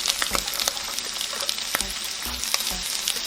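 Garlic and chili paste fry in a pan for nasi goreng, a close, steady crackling sizzle with soft scraping knocks of stirring scattered throughout.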